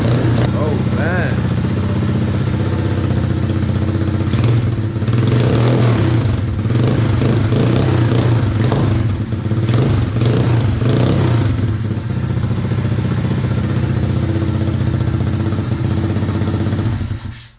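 Small 110cc Hawk ATV engine running steadily with a few throttle blips and revs, loud and close, with voices talking over it.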